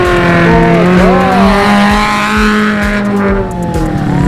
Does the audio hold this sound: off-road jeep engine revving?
yes